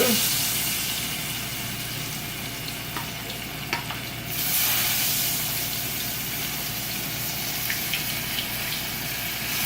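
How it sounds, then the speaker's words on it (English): Oil sizzles and crackles steadily as tempura vegetables deep-fry, a constant bubbling hiss with a few brief pops, close and fairly loud. "While these are frying"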